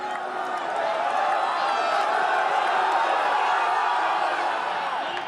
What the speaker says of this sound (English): a crowd that is absolutely wild today